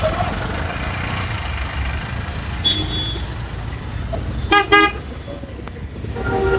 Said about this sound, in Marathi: बघा अजून ट्रॅफिक आहे, फटे ट्रॅफिक आहे.